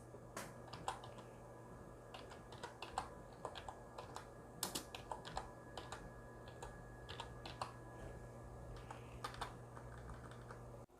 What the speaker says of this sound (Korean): 여기에 도봉산 산행이라고 치겠습니다.